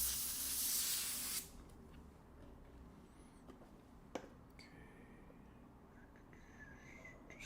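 An old airbrush being cleaned out of white paint gives a loud, steady hissing spray for over a second, then cuts off, leaving a quiet room with a few faint ticks and one sharp click.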